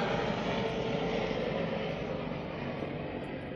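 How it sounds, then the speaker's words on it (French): An airplane passes overhead, a steady broad distant engine roar that fades slightly over a few seconds with no talking. "Un avion passe."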